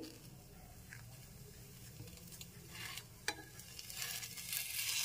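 Patisapta pancakes made from batter fry quietly in a pan, a soft sizzle with a few light utensil taps and scrapes, faint and close, with no talking.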